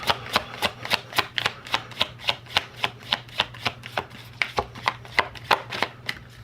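An oracle card deck is shuffled overhand in a steady rhythm of crisp, close slaps, roughly three or four per second, with no talking.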